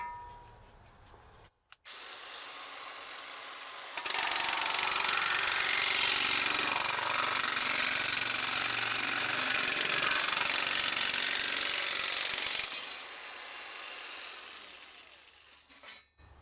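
Parkside cordless 20V metal shears cut through sheet metal in a loud, steady, grinding run of about nine seconds, with quieter motor whirring before and after.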